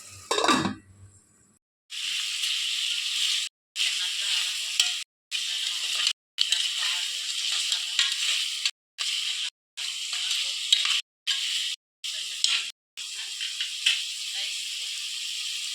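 Chicken pieces with chili powder and ginger sautéing in a pan, a loud close hissing sizzle that cuts in and out repeatedly, interrupted by short silent gaps, after a brief low rumble at the start.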